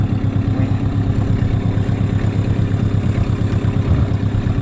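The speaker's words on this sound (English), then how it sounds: "we just have a new outboard" A new, more powerful dinghy outboard motor idles close by with a steady, even, low throbbing rumble that holds constant throughout, with no voices.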